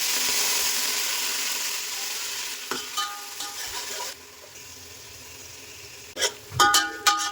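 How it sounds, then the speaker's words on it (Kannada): Fenugreek leaves and spinach frying together in hot oil, starting with a loud, steady sizzle that fades, followed by scattered utensil scrapes and knocks against the pan nearby. "ಎಣ್ಣೆ ಕಾದಿರೋದಕ್ಕೆ ಒಂದು ಅರ್ಧ ಕಟ್ ಮೆಂತ್ಯ, ಒಂದು 1/4 ಕಟ್ಟಷ್ಟು ಪಾಲಕ್ ಸೊಪ್ಪು ತಗೊಂಡಿದ್ದೀನಿ."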